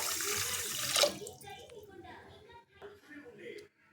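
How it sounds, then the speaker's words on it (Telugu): Water poured from a glass onto sugar in a pot to make syrup for gulab jamun: a short, splashy pour at the start fades quickly as a person talks. "ఇప్పుడు 2 గ్లాసుల చక్కెరకు 3 గ్లాసుల వాటర్ పోస్తానండి."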